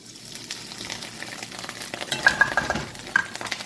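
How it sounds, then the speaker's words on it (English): Bacon hits a preheated skillet with a little olive oil and starts to sizzle, the frying growing louder as utensils clink against the pan, with no voices. "I'm going to add our bacon."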